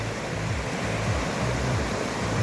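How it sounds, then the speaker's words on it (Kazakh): A clear mountain river at the foot of the mountains in the Kegen area, a dense, steady rushing and gurgling of flowing water, close and continuous with no other sounds. "Ондай тау өзені."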